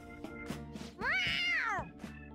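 A cat meows in the video game Persona 5 Royal, one long rising-and-falling meow in the middle, framed by short softer mews and light background music.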